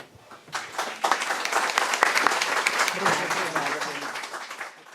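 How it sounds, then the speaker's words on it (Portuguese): An audience applauds at a university ceremony receiving an archive on journalist Vladimir Herzog: a crowded burst of clapping swells up after a quiet start, holds strong and even, then tapers slightly at the end, with voices mixed in. "uma salva de palmas para esse momento histórico"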